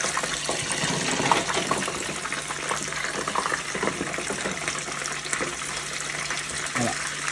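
Fish frying in hot oil, a dense, close hiss and bubbling sizzle that runs continuously, with people talking faintly over it.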